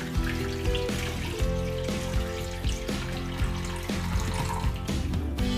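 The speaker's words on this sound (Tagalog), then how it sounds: "Lagyan natin ng tubig." Water pours steadily into a cooking pot set up for steaming braised pork belly, a continuous splashing rush under background music.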